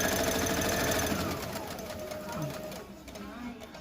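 A sewing machine stitches a simple pillow from Super Mario fabric, its rapid rhythmic whir close and loud, then slowing and fading toward the end while a person talks over it.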